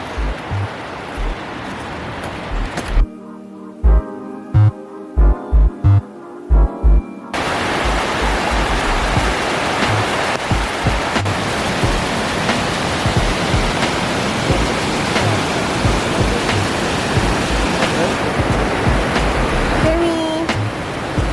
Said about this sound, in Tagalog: Mini waterfalls.